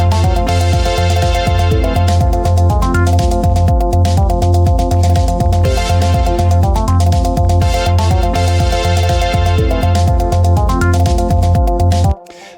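Bouncy synth plucks made with Bitwig's Phase4 synthesizer, given a touch of reverb and layered over a pulsing bass line and beat in a full musical groove, repeating in a steady rhythmic pattern, loud and close.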